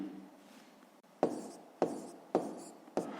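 Pen strokes scratch on paper as numbers are written down during a fifth-grade math exercise, four short, close scratchy bursts at a fairly even pace following a quiet stretch.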